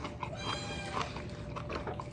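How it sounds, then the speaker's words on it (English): A house cat meows insistently nearby during a meal of slider buns on Hawaiian sweet rolls, several short cries over a busy background of clinks and faint room noise. "Sounds like the cat wants some too."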